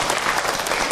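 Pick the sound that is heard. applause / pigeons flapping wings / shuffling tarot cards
applause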